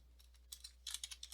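Code being typed on a computer keyboard: a quiet patter of individual keystrokes, sparse at first and then a faster, louder run of clicks, close by over a low steady hum.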